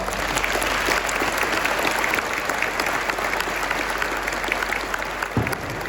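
Dense, steady applause from a school audience at a 7th and 8th grade spring concert, a full room clapping continuously and evenly throughout, with no talk over it.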